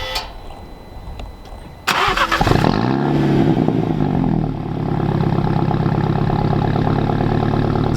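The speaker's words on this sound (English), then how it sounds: "let's get a cold start on my car" A car engine cold-starts after a quiet moment: the starter whirs briefly, the engine catches with a loud rising roar that settles, then it drops into a steady high idle close by.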